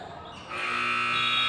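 A loud, sustained electronic buzzer ends the first quarter of a boys' high school basketball game in a gym. It kicks in abruptly after crowd murmur and holds steady to the end.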